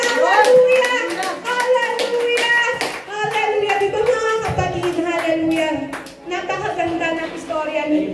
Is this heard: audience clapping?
yes